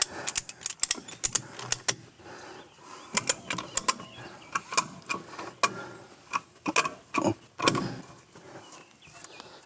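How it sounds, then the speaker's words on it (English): A ratchet strap on a homemade camper stabilizer, braced with 2x4 pieces against the frame I-beams, is cranked tight in repeated bursts of sharp metallic clicks and ratcheting, close and uneven, with no talking. "now that that other side is on with the ratchet strap, the only thing that we got left to do now is just tighten it up"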